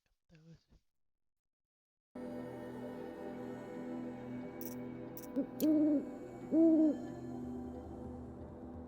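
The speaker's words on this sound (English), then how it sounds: "Hear the owls." Owls hoot in the video game Horizon Zero Dawn, with two clear, fairly loud hoots set over a steady ambient game hum, while a brief voice sounds before the ambience begins.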